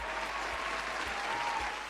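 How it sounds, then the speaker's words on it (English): Steady applause from a crowd, dense and even, with no voices over it. "Give them a round of applause."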